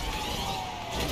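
A GTA 5 game ambulance siren wails in a steady, loud sustained tone with a faint engine rumble beneath, during an icy-road car crash race.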